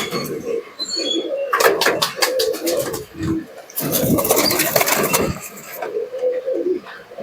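Young jack pigeons of the teddy and moina breeds coo in low, rolling phrases at close range, broken by loud bursts of flapping wings and rustling.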